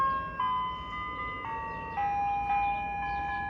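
An ice cream truck plays a high-pitched jingle of Turkey in the Straw, a steady tinny melody of sustained notes heard alone at moderate distance, with no talking.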